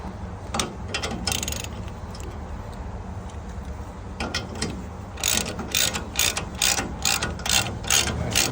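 Ratchet clicks from tightening a lower front suspension bolt on an E30 M3 project car, the pawl ticking in short bursts early on, then a steady run of close, loud strokes near the end.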